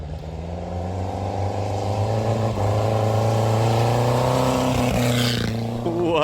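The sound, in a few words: Volvo car engine revving at hillclimb race in Sweden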